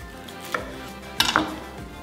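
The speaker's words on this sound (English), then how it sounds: "I pretty much cut them into about 1/2 inch thickness" A knife cuts vegetables on a cutting board for Cambodian sweet and sour catfish soup, two sharp chopping knocks about half a second apart and then a cluster of quick taps, close and quiet with no talk.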